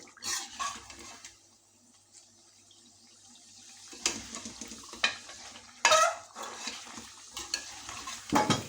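Chicken with black pepper and onion is stirred and fried in a pan, giving bursts of scraping spoon strokes over a soft sizzle, with a quieter stretch in the middle.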